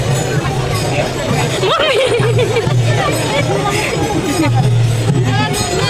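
A dense crowd of pilgrims at the Sant Tukaram Maharaj Palkhi procession on the Dehu to Pandharpur route, steady babble of many voices close around, with nearby speech mixed into the din.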